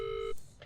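A telephone tone in the horror game Visage rings out as one steady, loud beep, stops abruptly, and leaves a quiet room with faint low rumble and a couple of soft clicks.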